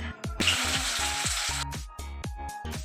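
Onions sizzle and crackle in hot oil in a pan as a home cook prepares a meat dish, with a steady loud hiss broken by several sharp thumps and clatters.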